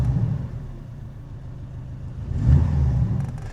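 A Porsche 718 Boxster GTS engine idles with its exhaust open, then revs quickly in one brief swell. The rev rises to a louder rumble before settling back down.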